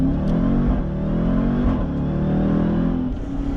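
A 2018 Jeep Trackhawk's supercharged 707-horsepower engine revs loudly and up close, holding a deep, steady roar with rising and falling harmonics and a brief swell near the middle.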